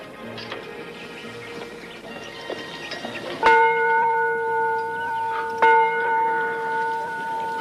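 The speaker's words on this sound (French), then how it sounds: "Jeune homme, fais sonner la cloche." A church bell in a Western film setting strikes twice, each loud clang ringing out with a long sustained hum, the second stroke coming about two seconds after the first over faint background sounds.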